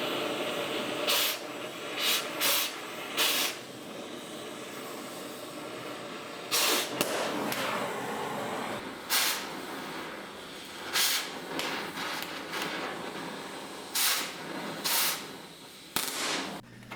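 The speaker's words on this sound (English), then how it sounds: "we use an oxyacetylene torch and we just cut them" An oxyacetylene torch cuts through seized bolts, a steady roaring hiss broken by repeated sharp bursts and pops as the flame blows through metal, close and loud with no talking.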